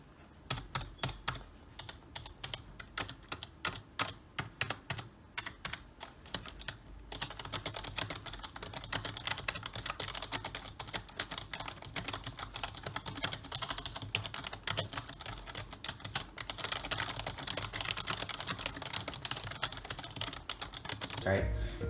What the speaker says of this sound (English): So yeah, it's my keyboard. All right, let's do a little bit of a sound test right now.